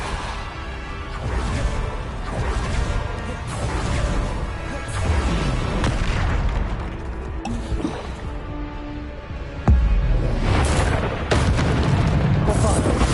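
Spell explosions in the video game Hogwarts Legacy: dense, continuous magical combat with repeated deep booms and watery, squishing bursts, a heavier blast near the end, and voices shouting over the fighting.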